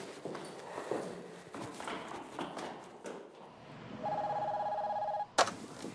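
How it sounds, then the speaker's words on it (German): A telephone rings out as a call is placed to a laboratory. Footsteps and movement come first, then a steady electronic ring tone sounds for about a second before a sharp click cuts it off. "Ich werde jetzt tatsächlich mal in dem Labor anrufen und schauen, ob da irgendwas getürkt worden ist."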